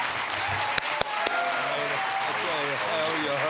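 Applause from an audience welcoming a retired general to the stage, a steady broadband patter throughout with a few sharp claps or bumps and some overlapping voices and tones beneath.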